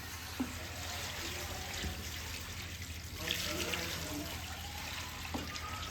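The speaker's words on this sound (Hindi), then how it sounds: "नमक का पानी मिला रहे हैं जो इसमें से निकला था वही पानी वापस अब इसमें डाल रहे हैं" Salt water from pickle brine poured back into a pickle mixture, a steady faint splashing pour that runs continuously under a background hum, with a few small clinks along the way and no talking.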